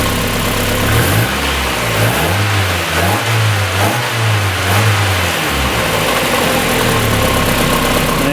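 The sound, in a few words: 1990-1997 Mazda Miata engine idling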